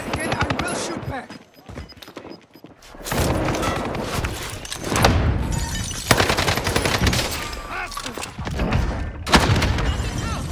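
Gunfire in a shooting video game crackles in dense, loud bursts with booming impacts, repeating through most of the stretch after a short quieter gap.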